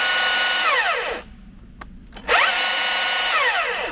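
A PRO battery top-handle chainsaw spinning its chain, a loud high whine that spins up, cuts off for about a second, then spins up again to full speed.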